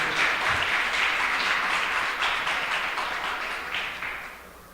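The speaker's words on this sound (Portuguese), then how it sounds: "Você pode aplaudir o Senhor" A church congregation applauds at a seminar, dense steady clapping from many hands filling the room, loud at first and gradually fading toward the end.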